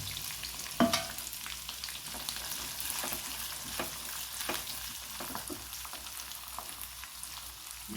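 Crushed onion, garlic, ginger and curry leaves frying in hot oil for a mango pickle, a continuous sizzle with crackles and scattered stirring scrapes, one sharper clatter near the start.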